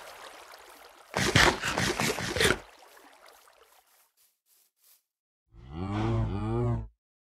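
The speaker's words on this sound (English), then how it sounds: "At least there's lots of cows." Cows moo in a forest area of a fantasy adventure game: a loud, close, drawn-out low moo near the start, a quieter trailing call, then a second clear moo after a pause.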